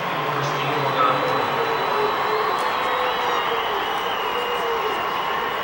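A football crowd at a 1990 Class DD high school football final roars from the far side of the field. The broadband cheering is steady and fairly loud throughout, with a voice talking over part of it.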